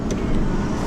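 A 1990s Buick rolls along the road, its engine hum and tyre noise steady and close from inside the car for a brief moment, no voices.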